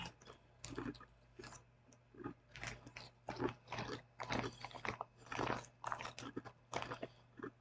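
Crunchy barrel-shaped South Korean snacks are chewed close to the mic, giving a rapid run of crisp bites and crunches at an uneven rhythm with no talking.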